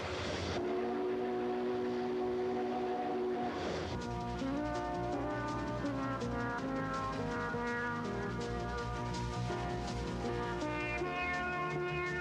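Train travelling along the rails between Cheyenne and elsewhere in Wyoming, a continuous rolling rumble with sustained horn-like tones sounding over it for several seconds, close and fairly loud with no voices.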